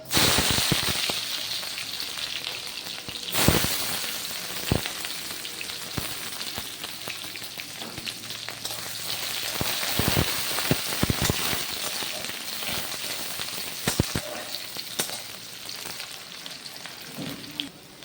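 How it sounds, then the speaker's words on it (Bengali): Onions fry in oil with whole cumin, cardamom and cloves, giving a steady sizzle with frequent sharp pops and crackles scattered throughout, moderately loud and without speech. "পেঁয়াজটা এভাবে লাল লাল করে ভাজা হয়ে গেলে"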